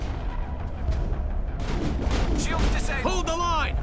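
Grenade blasts and gunfire in the Mass Effect video game, a dense run of booms and shots that builds louder midway, mixed with game voices and ending in a rising electronic whine.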